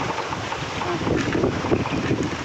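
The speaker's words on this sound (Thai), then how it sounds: "ลมหนาวมาอีกแล้ว" Cold wind blowing outdoors in a garden, a steady loud rushing roar buffeting the microphone throughout with no pauses.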